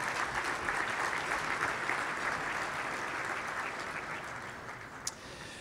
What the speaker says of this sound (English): How about a big round of applause for everyone here today?